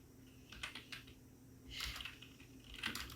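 A computer keyboard is typed on quietly while entering spreadsheet cells in MS Excel, with a few soft keystroke bursts separated by pauses and no voices.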